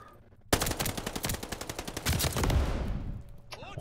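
A Sten gun in a video game fires a sustained, rapid automatic burst, close and loud, with even repeating shots that blur into a roar before tailing off.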